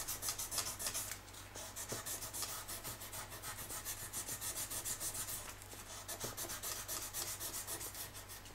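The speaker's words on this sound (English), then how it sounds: "Take my 800 grit right here. Start to" 800 grit sandpaper rubbing back and forth to polish the frets of a Telecaster guitar after fret leveling; steady rapid close-up scratchy strokes, continuous and fairly quiet, with no talking.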